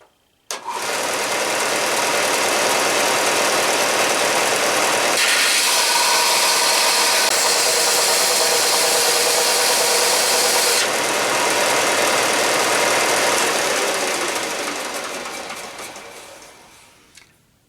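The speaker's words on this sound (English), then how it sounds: "I'm going to sand some of that back." A cow horn tip is sanded down while shaping a powder horn, giving a steady, loud, continuous power-sander whir that runs unbroken for most of the span, shifts in tone midway, then winds down at the end.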